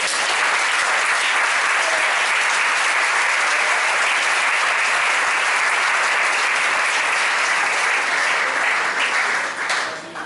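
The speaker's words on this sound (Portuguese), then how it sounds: "Vamos glorificar a Deus com uma salva de palmas, meu irmão." A church congregation claps together to glorify God, a thick roar of applause that holds loud and steady for several seconds before easing slightly at the end.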